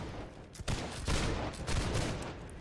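A ragged musket volley crashes out in the Holdfast video game, with a burst of overlapping shots and a second wave of loud reports rolling through.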